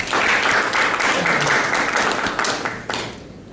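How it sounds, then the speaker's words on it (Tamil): An audience at an evaluation session gives a big round of applause, a dense burst of clapping that holds for a few seconds, then thins out and fades. "அந்த சிறப்புக்காகவே அவருக்கு ஒரு பெரிய கைத்தட்டு கொடுக்கணும்"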